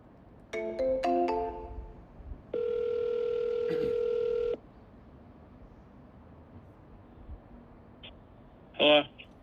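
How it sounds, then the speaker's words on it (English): Outgoing telephone call: a quick run of dialing tones, then one long, steady ringback tone, followed by quiet and a short electronic beep near the end. "Let's call this guy and let's see if we can get him on the phone."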